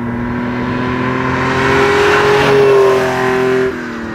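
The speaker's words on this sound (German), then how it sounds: "Fährt klasse, das Auto." A 1973 Ferrari 246 GT Dino drives past with its engine revving, a steady loud drone that climbs in pitch toward the end and then drops off sharply, with no talking.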